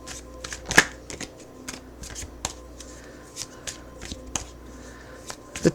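Tarot cards being shuffled with repeated crisp riffling snaps and soft slides, close and fairly quiet, spread irregularly across the whole stretch with a low room hum beneath.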